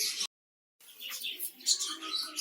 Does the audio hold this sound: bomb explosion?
no